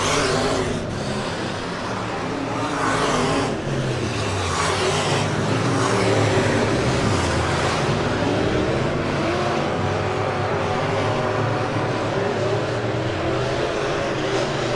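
Super stock race cars roar around a weekly dirt oval track, a continuous loud wash of engines rising and falling as several cars pass, with faint crowd and announcer sound underneath.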